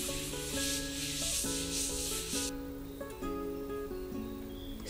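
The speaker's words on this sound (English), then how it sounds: "So I sanded, stained, and then varnished the table" A second-hand wooden table is sanded by hand in a 17th century Tudor farmhouse. Steady, gritty rubbing strokes sound for a couple of seconds under louder background music, then fade away.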